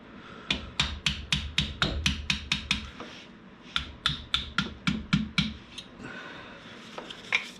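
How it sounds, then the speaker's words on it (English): Brass punch struck with a hammer while knocking out the rear main seal on a Jeep 4.0 engine: two quick runs of about ten sharp metallic taps each, close and loud, separated by a short pause. "I'm going to go ahead and use a brass punch now, get a little bit more out"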